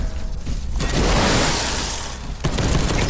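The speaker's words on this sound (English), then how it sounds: "Explosion's bad." A loud explosion in the video game Space Hulk Deathwing bursts out, followed by a dense roar of gunfire and crashing debris that fades then kicks up again near the end.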